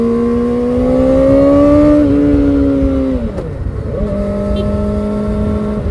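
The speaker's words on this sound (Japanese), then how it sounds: "やっぱり4発って加速してる感がむちゃくちゃあるんですよね。 あの音で。" A Kawasaki ZX-4RR 400cc four-cylinder motorcycle accelerates hard, its close, loud high-pitched wail rising through the revs, dipping on a gear change, then climbing again.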